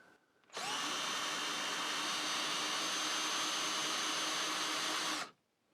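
A Ferrex 12 volt brushed cordless hammer drill runs at low speed, giving a steady, close, high motor whine for about five seconds with no voices, starting and stopping abruptly.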